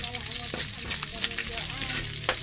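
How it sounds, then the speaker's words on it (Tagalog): Balila fish fries in a pan during a home breakfast cook, a steady dense sizzle with a few sharper spits and a faint utensil scrape near the end. "Dapat prito ka muna ng balila"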